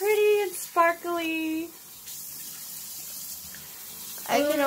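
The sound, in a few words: water running while rinsing off clay face mask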